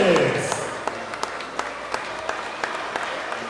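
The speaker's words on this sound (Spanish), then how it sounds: "Fuerte los aplausos, señoras y señores." Crowd applause at a live basketball final in Santa María Tlahuitoltepec, strongest at the start and then thinning into scattered claps and a noisy crowd murmur, with a few sharp knocks or bounces standing out over the ambience.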